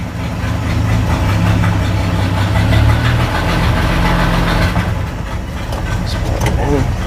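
A 1965 Chevrolet C10 pickup with a column-shift manual transmission idles loudly and roughly up close, with a low rumbling drone and a clunk as it is shifted into gear, while a person talks over it.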